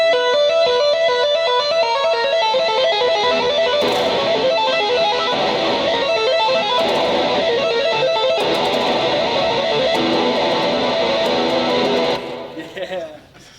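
Unmuted guitar in a live clinic demonstration, played as a dense, ringing wash of overlapping notes that sustain into a messy smear, steady and loud throughout before cutting off and decaying near the end.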